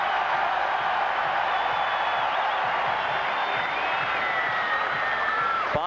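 A baseball stadium crowd roars steadily for a grand slam hitter taking a curtain call, a broad sustained wash of cheering with scattered whistles, heard from a distance.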